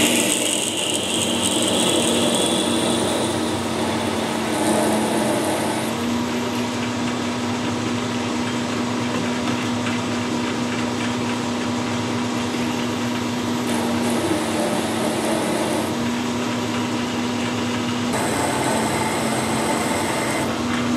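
Machine running steadily while a centre drill bores into metal in a lathe-type setup, a continuous close hum and whine lasting throughout with slight shifts in pitch, no voices.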